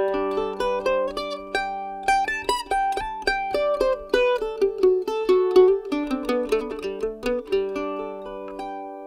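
Mandolin amplified through a blend of DPA and K&K microphones in a live-sound setup, bright plucked notes and tremolo-like runs played steadily and close, with no voices.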